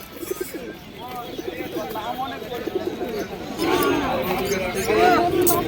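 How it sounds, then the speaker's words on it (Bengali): Caged Madras pigeons coo repeatedly nearby, with soft bird chatter and a person talking over them throughout. "এই খাঁচাটার মধ্যে দেখতে পাচ্ছেন বন্ধুরা, কিছু লাল ফুল ম্যাড্রাস পায়রা রয়েছে।"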